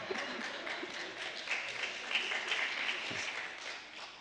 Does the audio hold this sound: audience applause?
yes